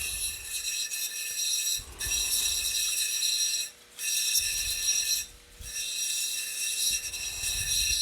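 An opal is ground against a 360 grit wheel in a lapidary setup, giving a steady broadband whirring grind with two brief dips where the stone lifts off, then continuous contact resumes.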